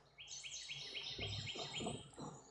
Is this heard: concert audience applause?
no